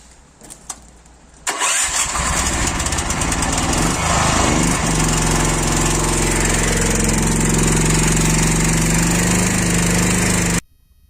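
7.5 kW petrol generator starting abruptly after a few knocks, then running loud and steady with a constant engine drone under a heavy 7 kW load before cutting out suddenly.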